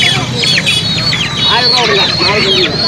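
Chickens cluck and chicks peep in a steady chorus of short calls against a noisy background at the Melapalayam chicken market in Tirunelveli.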